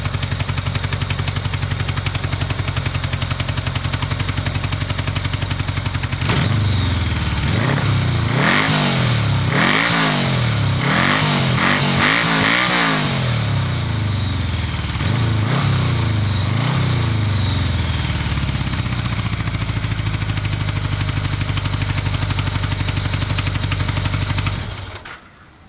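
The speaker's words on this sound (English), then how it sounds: "I'd say the carbs are out of sync on this. It doesn't idle real good." 1982 Honda GL1100 Aspencade Gold Wing with unsynced carburetors running roughly, a loud, close engine drone that surges through uneven blips and revs in the middle, then settles back to a steady rumble before cutting off.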